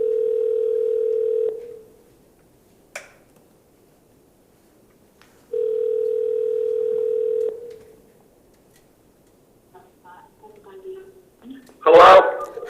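Steady telephone dial tone on a call placed to a hearing participant, sounding in two long bursts separated by quiet, followed by faint clicks and a brief loud burst at the end.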